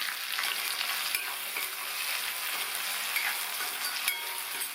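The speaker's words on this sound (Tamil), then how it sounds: "எண்ணெயிலேயே நல்லா வதக்கிக்கணும் இந்த கத்திரிக்காயை." Eggplant sautéing in oil for ennai kathirikai kuzhambu, a continuous bright sizzle with light stirring ticks, close and even throughout.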